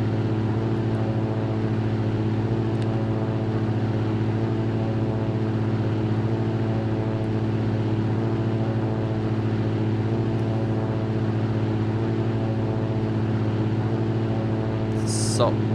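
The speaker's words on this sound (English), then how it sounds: "There is a certain repetitiveness in the engine sound." A Cirrus SR22 light aircraft's piston engine in the X-Plane 11 flight simulator drones steadily, a loud, unchanging tonal hum with a faintly repetitive cycle, plus a brief click near the end.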